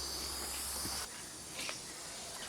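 An Iwata spray gun fitted with a 1.3 nozzle sprays black paint as a steady, close airy hiss that cuts off abruptly partway through, leaving a quieter background hiss with a brief burst afterward.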